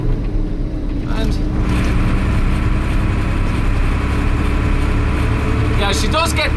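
A Volvo fire engine drives with a loud, steady engine roar filling the crew cab, close and constant, with brief voices and rattles over it.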